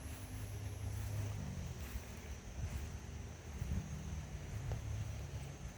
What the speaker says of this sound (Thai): ลมเย็นวอยๆ